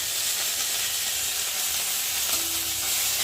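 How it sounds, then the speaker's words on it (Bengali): Ginger and cumin paste frying in a pan for a chana dal recipe, a loud, continuous, close sizzle and hiss with no pauses and no voices. "আদা জিরেটা যতক্ষণ একটু ভাজা ভাজা হবে কাঁচা ঘন্টাটা যাবে ততক্ষণ একটু ভালো করে মেরে নেবো"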